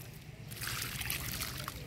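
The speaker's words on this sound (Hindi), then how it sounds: "मु सेथिरे टिके पानी दे दउची" Water is poured onto a potted sapota sapling, a soft close trickle and splatter that starts after a short pause and continues steadily, with no talking.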